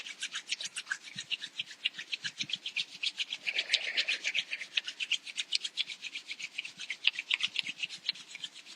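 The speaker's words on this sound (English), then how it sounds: "just rub your hands hard until you create enough heat within your hands" Two hands rub together hard and fast to build heat, a steady rhythmic brushing swish repeating close up and fairly loud, with no talking.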